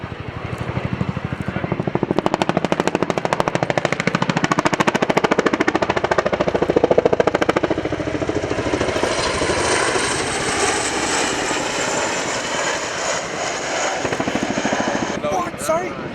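Chinook helicopter at the RIAT 2016 airshow at Fairford, its heavy rhythmic rotor thudding loud and close, then easing into a broad turbine roar as it moves off, with a commentator talking over it.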